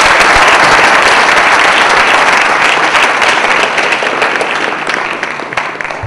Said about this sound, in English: we should give a big round of applause to our sponsors